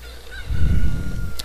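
A cucco chicken in the video game The Legend of Zelda: Ocarina of Time gives a loud, honking cluck over a low game rumble, with a brief high squawk near the end.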